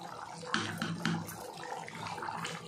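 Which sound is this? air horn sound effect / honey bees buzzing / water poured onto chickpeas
water poured onto chickpeas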